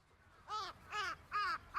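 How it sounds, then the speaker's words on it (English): Crows caw from atop phone lines in a quiet morning scene of the Chaos;Head Noah video game: three loud, harsh, evenly spaced calls with a fourth starting, and no talking. "I could faintly hear the sound of birds chirping atop the phone lines,"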